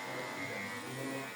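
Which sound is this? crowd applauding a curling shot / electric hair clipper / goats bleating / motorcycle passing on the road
electric hair clipper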